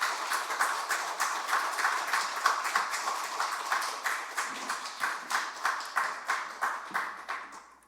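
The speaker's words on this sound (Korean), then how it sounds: "우리 장로님 바로 또 박수로 환영해서 맞이하도록 하겠습니다" A church congregation at Yeomgwang Church claps to welcome an elder to the pulpit, a steady medium-sized round of applause with clearly separated hand claps that gradually slows into rhythmic unison clapping before fading out.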